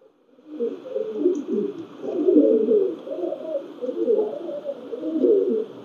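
Pakistani teddy pigeons coo close by, a series of soft, throaty rolling coos repeating in uneven phrases over a faint steady background hum, with no talking.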